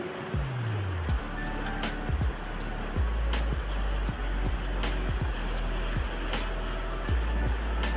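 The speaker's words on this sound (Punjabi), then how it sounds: "ਤੇ ਪਾਣੀ ਵੇਖ ਲਓ ਜੀ ਕਿੰਨੀ ਤੇਜ਼ੀ ਨਾਲ ਜਾ ਰਿਹਾ ਆ" Fast-flowing floodwater of the Sutlej river near Anandpur Sahib, a loud continuous rushing roar with a deep low rumble, broken by recurring sharp knocks and splashes, with faint voices in the background.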